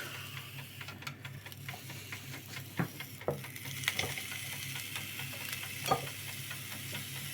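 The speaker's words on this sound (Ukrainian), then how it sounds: "Зараз кладемо овочі, перчик." Green and red peppers and marinated eggplant land on a hot grill beside resting ribs, giving a faint, steady sizzle broken by scattered small clicks and ticks.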